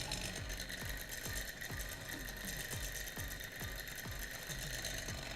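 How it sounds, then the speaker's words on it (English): A small thermoacoustic engine running fast, giving a quick, steady mechanical chatter of evenly spaced beats, close up and fairly quiet, with no voices. "So this is a thermoacoustic engine. Whoa, it is going so fast."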